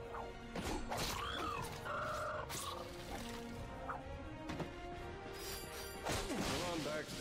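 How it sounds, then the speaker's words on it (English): Crates being smashed in the video game Ratchet & Clank, a series of sharp cracking breaks with whooshing swings and scattered game effects, spaced irregularly across the clip and mixed with quieter in-game chatter. "Look at him smashing crates."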